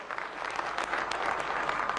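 Dense audience applause at a space mission event in India honoring the launch team, steady and sustained clapping throughout with no pauses.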